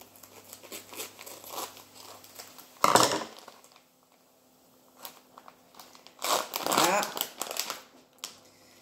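A packet of parmesan cheese being torn and opened in a kitchen, with close crinkling of plastic wrapping in a few sharp bursts between quieter pauses.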